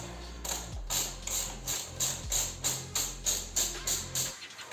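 Rhythmic ratcheting from a hand tool loosening the grille screws on an Audi A6 C6, a close, steady series of clicking pulses with short pauses between strokes.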